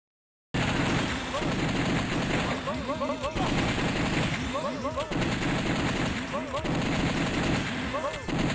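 Rapid arcade light-gun fire from The House of the Dead on Sega Saturn during a boss fight with a flying gargoyle, loud bursts of shots running continuously over game music with no pauses.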